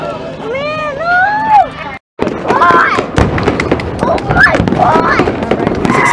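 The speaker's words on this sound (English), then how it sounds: "Now let's go back to the beautiful fireworks." Fireworks at a July 4th outdoor celebration crackle and pop in a rapid irregular series of sharp bursts, with excited voices and crowd chatter running underneath and over them.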